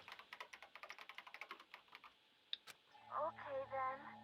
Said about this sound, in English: quickly began typing